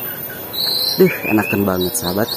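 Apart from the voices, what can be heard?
birds chirping near a village pond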